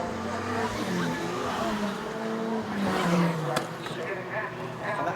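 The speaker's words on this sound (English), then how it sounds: "Ian Cowley just getting passed once again by the race leaders" Pre-1990 Formula Ford race cars in a national championship round at Brands Hatch pass as the leaders lap a backmarker, with engines droning and passing under a commentator's continuous talk, a sharp transient near the end.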